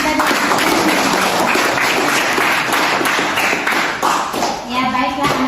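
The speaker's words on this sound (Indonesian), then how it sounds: "Kita berikan aplaus untuk teman kita." A classroom of grade 10 students applauds a classmate, producing dense, loud, sustained clapping, with some voices mixed in and the applause thinning toward the end.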